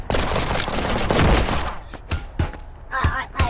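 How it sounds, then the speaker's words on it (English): Rapid bursts of revolver gunfire in the VR game Animal Company, loud, close shots crowding together at first, then separate sharp reports with gaps between them. "No, he's using revolvers now."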